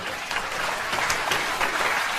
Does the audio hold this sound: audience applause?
yes